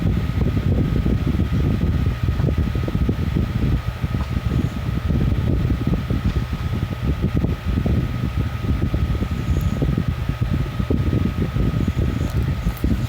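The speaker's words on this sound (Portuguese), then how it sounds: "desculpa se você estiver escutando alguma zoada aqui, é por causa do ventilador" An electric fan runs in a hot room, producing a continuous close, loud whir with rough, fluttering air noise and no pauses.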